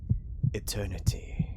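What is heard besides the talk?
heartbeat thumping in video game Far Beyond The World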